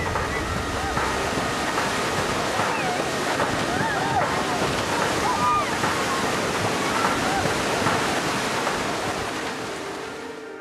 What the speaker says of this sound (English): The scene is repeated a short time later in Thailand as the water ravages the popular Andaman